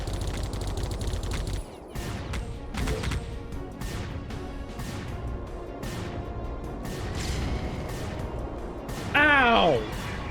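Sustained rapid gunfire hits a player in the horror video game Geist, a dense rattling fusillade of repeated sharp shots with crashes, ending in a louder burst near the close.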